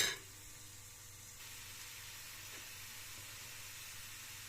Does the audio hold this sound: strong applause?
no